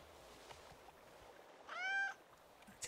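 A cat in the video game Horse Tales: Emerald Valley Ranch gives a single clear, rising meow midway, close and distinct over quiet background sound.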